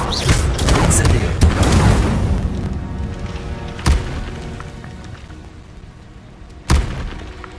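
An Incendio fire spell cast in the video game Hogwarts Legacy bursts out as a loud whooshing boom that fades over a few seconds, with two more sharp thuds following later and a voice shouting the spell's name.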